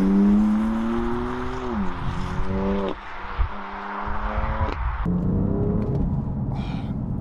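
BMW M4 engine in Sport Plus mode while driving, a loud, close, droning note that climbs in pitch, drops sharply at each gear change and builds again, with no talking.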